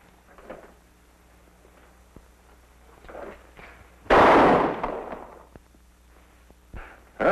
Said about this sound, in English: We'll put a bullet in the letter O. Give you something to shoot at.